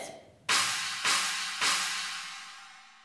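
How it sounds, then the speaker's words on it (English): Three loud, bright crashes of a Chinese cymbal (bo) used in dragon dance music, struck at an even pace, each ringing and trashy, decaying slowly after the last hit. "You also usually find a Chinese cymbal,"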